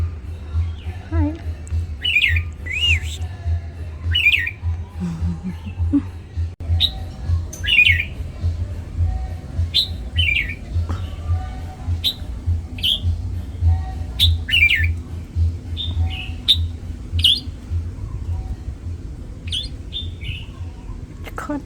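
Birds chirp and squawk in repeated bright calls over a steady low hum in a Chamarel, Mauritius restaurant setting, with people talking faintly in the background.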